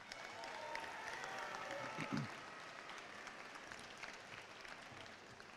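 Audience applause at a Special Olympics national banner ceremony for a school, steady broadband clapping from a crowd filling the room, moderately loud and continuous with a slight swell near the middle.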